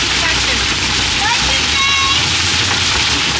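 Dense hail hammers on a van's roof during a Rocky Mountains road trip, a loud, unbroken roar of rapid impacts that fills the whole stretch.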